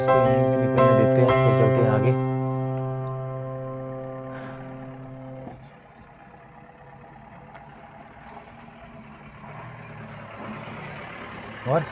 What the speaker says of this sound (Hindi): आगे से आ गई मुर्गे वाली गाड़ी, मेरे फिर बैक ही चलना पड़ेगा पीछे।